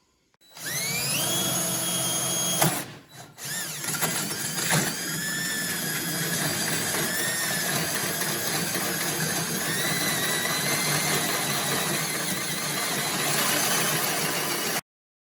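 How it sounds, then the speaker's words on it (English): A power drill bores a hole in a 1972 Glasspar boat by Larson under restoration, a steady, close, high whirring drone. It starts sharply, briefly stutters near the beginning, then runs continuously before stopping abruptly. "let's go and drill a hole on the other side"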